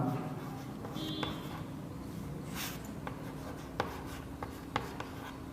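A pen or pencil scratches out numbers by hand on paper, soft continuous scraping with a few light taps, close and quiet, without speech.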